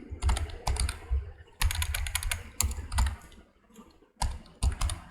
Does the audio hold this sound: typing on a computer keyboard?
yes